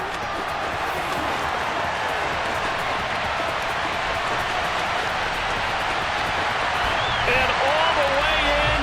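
A stadium crowd at an NFL game roars steadily after a Seattle Seahawks touchdown against the Buccaneers, a loud, sustained wash of cheering with a commentator talking over it.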